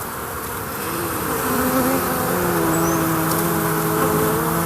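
Honeybees swarm around a queen dropped in the grass, a dense, continuous buzzing hum that swells slightly and stays loud and close throughout.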